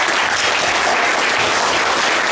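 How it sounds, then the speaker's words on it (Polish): Loud, continuous applause from an audience at a patriotic congress gathering, a dense, even wash of clapping with no pauses throughout. "Wielkie brawa dla pana"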